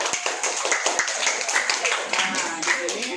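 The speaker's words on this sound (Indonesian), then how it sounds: "Oke, tepuk tangan." Students in a classroom clap their hands in a busy, overlapping patter of claps that carries on steadily, with some chatter mixed in.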